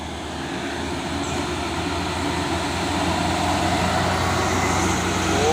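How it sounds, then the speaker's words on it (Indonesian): A CPO palm-oil tanker truck rolls past on a road, a steady loud engine rumble and broadband roar that slowly builds as it nears, with no voices. "Ini ada truk tangki CPO apa nih?"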